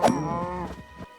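A Minecraft cow lets out a single loud moo up close, a harmonic low call sustained for about a second, with no talk over it.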